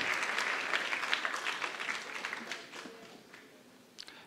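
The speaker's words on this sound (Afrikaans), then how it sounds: "Kom ons klap vir hulle lekker hande." An audience at a jacket ceremony claps, a fairly faint burst of many hands that is fullest at the start and fades over a few seconds.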